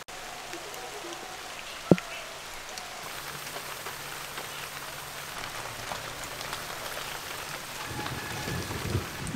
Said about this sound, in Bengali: সিঙ্গারা আর এই কচুরি একদম ডুবো তেলে ভাজতে হবে, আর হালকা গরম তেলে ভাজতে হবে।